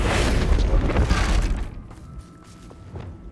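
A Bombarda blasting spell in Hogwarts Legacy erupts in a loud, booming explosion with a shattering crash, then decays into scattered debris and fading rumble.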